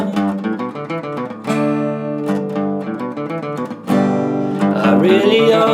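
A guitar plays the transition riff from a song, with ringing plucked notes and double strikes on a low open string, building louder toward the end.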